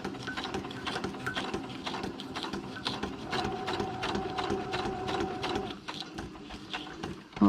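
A sewing machine stitching through a paper tag, a rapid rhythmic needle clatter running steadily for several seconds under a motor hum, pausing briefly near the end before a loud bump.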